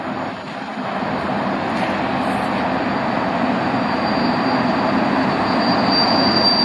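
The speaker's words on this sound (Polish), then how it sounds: "Teraz idzie lokomotywa EP07." An EP07 electric locomotive passes through Rawicz station, a loud, close, continuous rumble of train wheels and motors holding steady throughout, with a faint high whine near the end.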